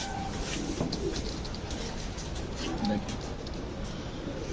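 Teddy pigeons coo softly at a loft as birds are handled and released, low burbling calls mixed with faint wing and background noise under people talking.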